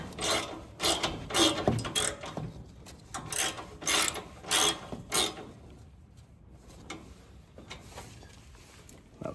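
A ratchet tool clicks in quick bursts as self-threading screws are driven into the chassis of a STIGA Tornado 7108w ride-on mower, close up, with brief rubbing and handling noises between runs.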